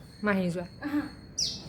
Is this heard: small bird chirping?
yes